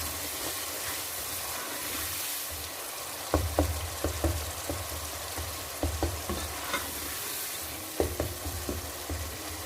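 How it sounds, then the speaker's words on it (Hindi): Spices with red chilli are stirred and fried for a mixed vegetable dish of potato, peas and carrot, with a steady hissing sizzle and a rhythmic series of spoon scrapes and knocks against the pan, close by. "अब हम मसाले को अच्छे से भून लेते हैं।"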